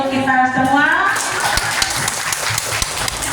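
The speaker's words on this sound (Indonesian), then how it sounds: "Sekali lagi kita tepuk aplaus untuk kita semua." A voice speaks briefly at the start, then teachers clap at the end of a session, with scattered, fairly sparse claps continuing to the end.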